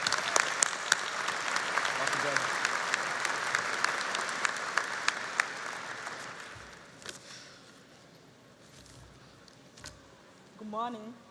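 A university commencement audience applauds an incoming speaker with dense, steady clapping for about six seconds, which thins to scattered claps and fades, followed by a brief voice near the end.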